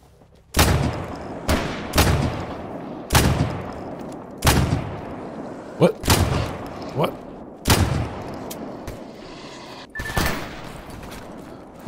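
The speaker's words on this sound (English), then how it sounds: "That dude isn't firing at me." Roughly nine loud, separate gunshots ring out in STALKER GAMMA, each with a booming tail that echoes off the surroundings, spaced unevenly over several seconds.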